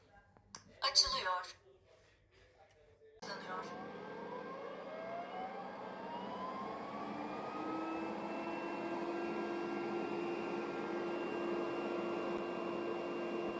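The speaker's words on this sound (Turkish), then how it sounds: "Şu anda süpürgeyi açtım" A robot vacuum cleaner with a lidar sensor starts up after a repair of a common fault, settling into a steady whirring drone with a rising motor whine, following a few handling clunks and a brief pause.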